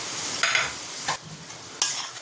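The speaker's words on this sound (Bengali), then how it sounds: "এবার এর মধ্যেই কুচানো নারকেল দিয়ে দেবো" Grated coconut sizzles with fried potatoes in a pan, a low steady frying hiss broken by three sharp scraping stirs of a spatula, close up and without speech.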